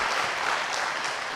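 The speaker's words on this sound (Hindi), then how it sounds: "सब लोग जोर से ताली बजाइए" An audience at a motivational talk claps loudly, a dense and steady wash of applause with no pauses, close and filling the whole moment.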